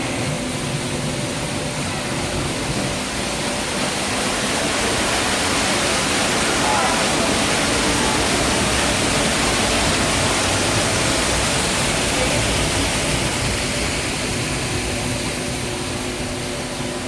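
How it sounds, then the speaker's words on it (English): A zoo waterfall in an African-themed exhibit, heard from up close while walking underneath it: a loud, steady, broadband rush of falling water that holds constant throughout, with no pauses or breaks. "As we make our way under this waterfall, look out for stalactites."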